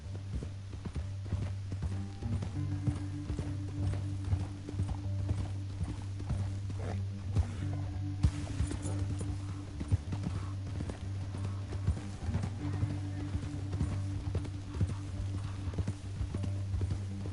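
Horse hooves in Red Dead Redemption 2 clip-clop in a steady walking rhythm over a low droning hum, with faint mechanical clanks mixed in; no voices.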